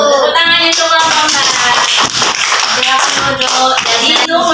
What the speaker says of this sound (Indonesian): Tepuk tangannya untuk kelompok